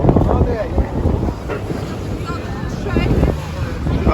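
A boat churns through the River Thames near Tower Bridge, London, with engine rumble, wind buffeting and splashing, while voices speak over the noise.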